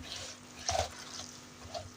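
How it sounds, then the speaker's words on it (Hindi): A little water is poured into a bowl of gram flour (besan) batter, making a soft, brief trickle and splash, faint and close in a quiet kitchen. "अब इसमें मुझे थोड़े से पानी की ज़रूरत होगी, सिर्फ इतना सा, ताकि ये सारा बेसन वगैरह इसमें मिक्स हो जाए अच्छे तरीके से।"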